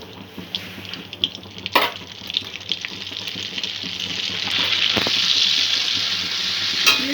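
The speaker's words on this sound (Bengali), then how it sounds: "এই তেলের মধ্যে 1/2 চামচ বাটার দিয়ে দেব।" Half a spoon of butter melting into hot oil in a pan for white sauce chicken gravy, sizzling steadily and growing louder, with occasional spoon clinks and scrapes.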